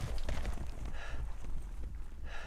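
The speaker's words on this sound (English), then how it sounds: "it's probably some form of horse galloping" Horse hooves gallop in the video game Silent Hill 2, a steady rapid clip-clop rhythm that stays close and fairly loud throughout, with some rumbling ambience underneath.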